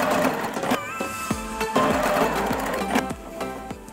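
A sewing machine top stitching down the splayed seams of a bucket hat lining, running in short rhythmic bursts with clicks and mechanical whine, close and fairly loud, without speech.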